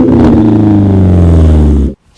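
A car fitted with an ST exhaust and a muffler delete revs loud and close, a deep, raspy engine drone that holds for about two seconds and then cuts off abruptly.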